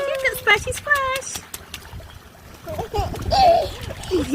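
A young child splashes in water at home, soft splatters and trickles heard under cheerful adult talk and the child's babbling.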